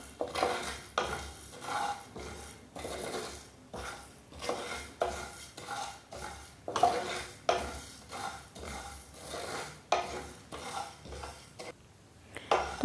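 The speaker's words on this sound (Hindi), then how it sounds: "और साथ ही धनिया भी इसी में डाल देंगे और सबको अच्छे से भून लेंगे।" Coriander and spices roast in a pan, stirred with a utensil in a regular rhythm of scraping and clinking strokes, close and fairly quiet, with faint sizzling and no speech.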